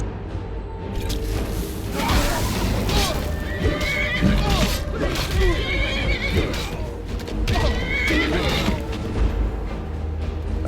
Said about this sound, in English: That horse attacking me.